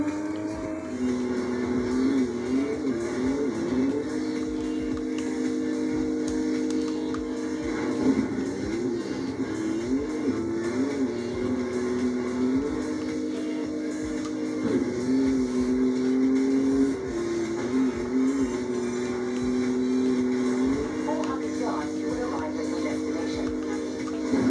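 A Toyota Supra drives in a video game, its engine holding a steady drone with repeated revving swells and gear-shift dips, loud and continuous without talk.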